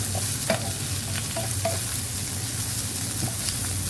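Dry chilies and onions fry with a steady, loud sizzle in a pan, broken by a few short scraping knocks as they are stirred over about four seconds, with no voices.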